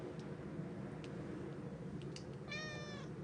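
A cat lets out one short, clear meow near the end, against a steady background hiss, close to an outdoor solar lens drawing session.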